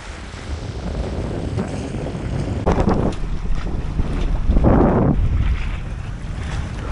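A sailboat runs under full sail in a freshening breeze off the Greek island of Symi, with continuous wind buffeting the microphone, water rushing along the hull and two louder gusts.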